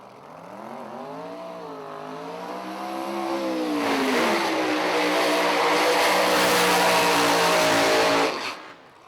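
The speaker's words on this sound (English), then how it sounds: "the big old blower car of Tyler Hard, as he finishes off the burnout, going out to the 330." A supercharged Pro Mod drag race car with a big blower finishes its burnout at a drag strip qualifier, its loud engine note rising and sweeping in pitch, then holding a sustained roar before cutting off sharply near the end.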